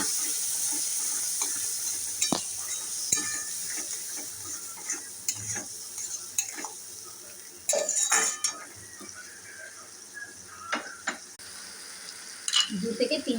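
Prawn curry with almond-poppy seed paste is stirred in a pan, a spoon clinking and scraping in scattered strokes over a steady, gentle sizzle, with no talking.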